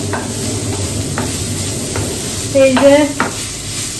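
Saag greens frying in a pan give a low, steady sizzle with soft stirring scrapes, and a brief spoken phrase cuts in near the middle.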